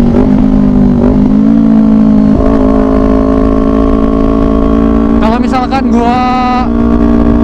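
A 2018 Kawasaki Ninja 250 parallel-twin idles steadily, then its throttle is blipped open and shut, the engine note rising and falling in a few quick revs, with someone talking over it throughout.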